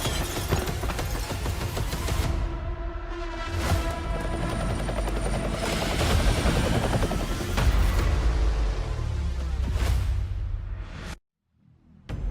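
In the Call of Duty Mobile battle royale, a helicopter arrives for extraction: heavy rotor thumping and engine roar build and hold for about eleven seconds with crashing bursts mixed in, then cut abruptly to near silence.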